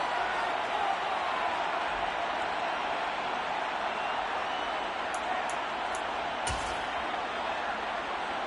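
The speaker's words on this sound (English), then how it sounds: "Plenty of shouts from this crowd as they watch the replay." A stadium crowd at an American football game between the Vikings and Chargers roars and shouts continuously as a replay is shown, a dense, steady wash of noise with no pause throughout.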